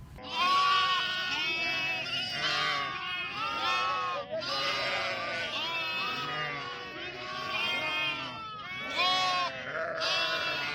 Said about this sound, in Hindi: जो ये भेड़े हैं उनके बच्चे हैं वो अपने माँ के इंतज़ार में चिल्ला रहे हैं दूध पीने के लिए